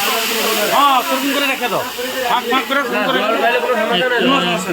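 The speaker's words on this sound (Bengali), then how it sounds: "আলু ভাজা চলছে এখন।" Potatoes fry in a large batch on a clay stove while food is cooked for a village puja feast. A soft, steady hiss sits under continuous nearby talking.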